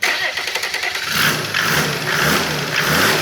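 A Mercedes OM606 turbo diesel engine with electronic injection pump runs loudly and steadily nearby, its low rumble swelling in a few revs, with no talking.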